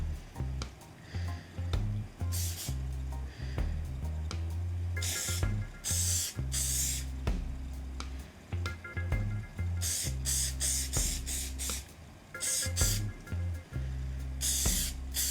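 Hairspray sprayed onto pinned, hot-rollered vintage-style hair in repeated short hissing bursts, close to the mic, with rustling and handling noise between sprays.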